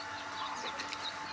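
Tiger chicken chicks kept in a cage, several soft high chirps and peeps scattered over a faint background, close by but quiet.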